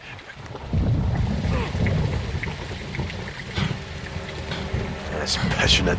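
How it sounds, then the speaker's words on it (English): Heavy rain and rolling thunder in the Modern Warfare 2 campaign, a steady dense downpour rumbling throughout with a low thunder roll, while voices talk over it. "It's raining fucking hard."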